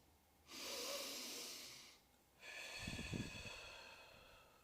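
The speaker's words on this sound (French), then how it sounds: "vous allez prendre une bonne inspiration" A deep, slow breath drawn in through the nose during a guided full-moon meditation, followed by a long audible exhale with a soft nasal snort, close and clear with no talking.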